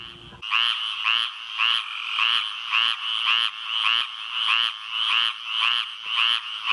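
Frogs of Alabama calling in a dense chorus, with loud, evenly spaced trilling, bleating pulses repeating about twice a second and carrying on without a break.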